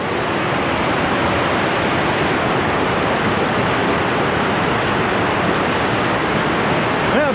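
Roaring Bow River at Bow Falls in Banff: a dense, constant, loud rush of whitewater filling the whole scene without let-up, close and unbroken.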